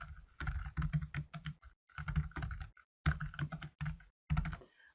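Keys clack rapidly on a computer keyboard in short bursts separated by brief pauses, close and fairly quiet.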